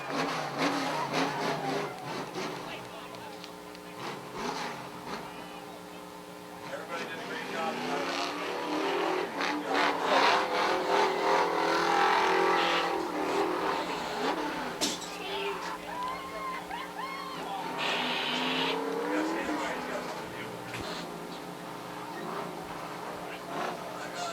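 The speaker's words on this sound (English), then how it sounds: "The final 10 laps are run side by side with Rob Gordon on the bottom" Dirt modified race cars roar around the oval at Airborne Speedway in Plattsburgh, New York, engines droning steadily and swelling as they pass, with a race announcer talking over the noise throughout.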